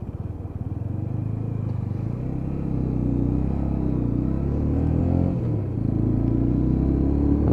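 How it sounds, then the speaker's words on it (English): UM Renegade Commando Classic motorcycle pulling away on a ride near Bletchley, a steady deep engine rumble that rises in pitch as it accelerates, loud and close throughout with no talk. "I do love the sound as it just pulls away."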